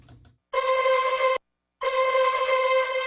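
A harsh, buzzy distorted synth lead holds two sustained notes at a constant level, separated by a short silence, loud and steady without any volume wobble.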